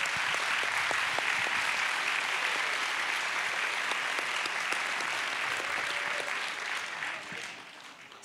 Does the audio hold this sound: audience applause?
yes